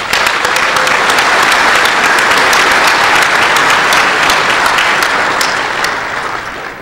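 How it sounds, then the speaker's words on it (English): A conference hall audience at a hacker convention awards ceremony gives a long, loud, dense burst of clapping that holds steady and then begins to taper off toward the end, with no voices on top. "Give them a round of applause."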